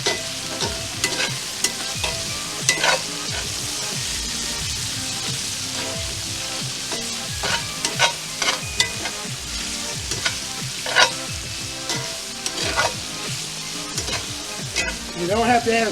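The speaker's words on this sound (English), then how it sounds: "Stir it up." Green beans sautéing with bacon in a pan, stirred steadily: a continuous close sizzle with repeated utensil scrapes and clacks throughout, no talking.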